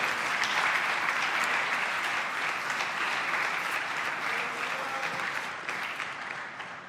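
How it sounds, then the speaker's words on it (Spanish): Sustained applause from a church congregation, dense and steady for the whole stretch, loud and close, fading slightly toward the end with no talk over it. "Oh, dale un aplauso al Señor."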